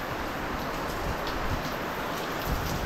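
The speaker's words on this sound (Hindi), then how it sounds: "छत पे हो रही है देखो बारिश टपक रहा है यहाँ से" Rain falls on a house rooftop during a storm, a steady broadband hiss with soft scattered drips throughout and no voices.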